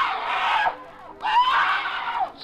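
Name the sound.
woman screaming in old time radio drama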